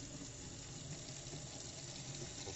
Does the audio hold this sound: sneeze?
no